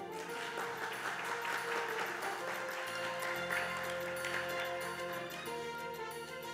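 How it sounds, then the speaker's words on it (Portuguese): Audience applause fills a formal civic ceremony in a municipal chamber, honoring a new honorary citizen in Juiz de Fora; steady, dense clapping continues throughout, with a musical tone underneath. "Com os aplausos do público, convido o ilustríssimo senhor, professor doutor Pedro Leitão"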